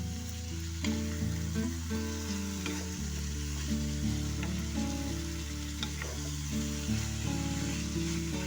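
Finely chopped bitter gourd sizzling and frying in a pan as it is stirred, a steady close sizzle with occasional scrapes and no talk.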